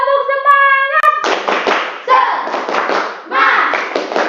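Students in a classroom perform a rhythmic 'tepuk semangat' clapping chant, loud bursts of hand claps in quick patterned groups mixed with shouted voices, following a sustained sung or chanted opening.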